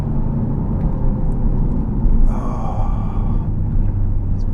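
A lowered Mini Clubman JCW with firm lowering springs driving along a bumpy road, a loud continuous low rumble of engine and tyres, with a brief rattling knock partway through.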